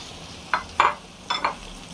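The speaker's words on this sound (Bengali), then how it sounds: "এখন টমেটোটা দিয়ে দিই" Tomatoes go into a pan of frying garlic, giving two pairs of short, loud sizzling bursts as they hit the hot oil, with a steady low frying hiss between them and no talking.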